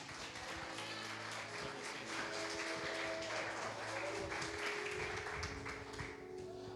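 Church congregation at an evening service clapping together in sustained, dense applause, moderately distant and soft, with a steady low hum and faint voices beneath.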